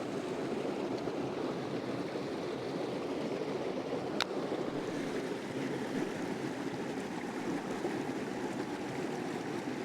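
Water pours steadily over a lower cascade in a springtime stream, a continuous broadband rush that holds even and close throughout with no voices.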